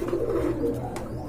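An Andalusian pigeon coos in low, soft murmuring phrases close by, its steady throaty calls continuing through a short stretch with no talk.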